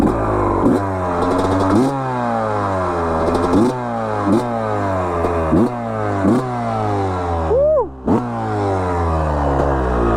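An old two-stroke dirt bike engine revving on a track, close and loud, climbing through gears in repeated rising rips with brief drops between, one sharp blip near the end.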